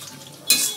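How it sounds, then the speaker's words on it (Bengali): Bay leaf, dry chilli and whole cumin hit hot oil, and a sudden burst of sizzling hiss starts midway through a brief, quiet moment and carries on close by. "এটা একটুখানি ভাজা হতে হবে।"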